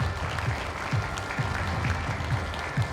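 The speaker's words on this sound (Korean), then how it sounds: "박수 부탁드립니다." Audience applause at a national chamber of commerce chairpersons' meeting, a steady, dense clapping from a roomful of people throughout, fairly close, with no speech over it.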